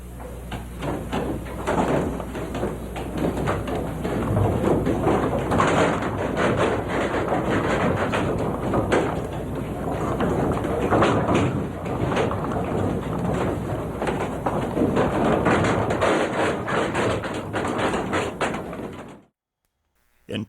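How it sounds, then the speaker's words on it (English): An old Danish windmill creaks and groans as it turns in shifting wind, a loud, continuous wooden rumble with knocks and rattles that cuts off abruptly near the end. "When you hear the noise up there, that's the wind changing, and that's the creaking old mill."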